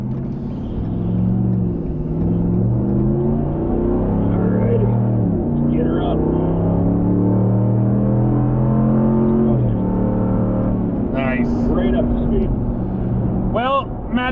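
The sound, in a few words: pickup truck accelerating onto highway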